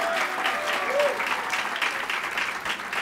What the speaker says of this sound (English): Bill de Blasio, give him a round of applause.